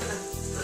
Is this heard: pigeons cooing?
no